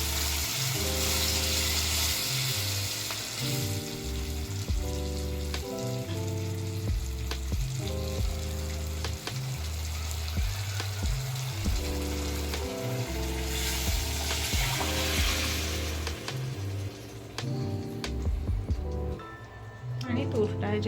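Tamarind-jaggery pulp poured into dal with sizzling tempering in a pan, a steady frying hiss and occasional stirring under a spoken voice and background music.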